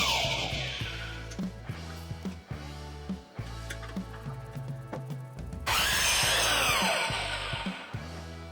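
A power tool resaws old recycled timber into boards for panelling, with a steady mechanical whine and a harsher, louder cutting burst near the end, over background music.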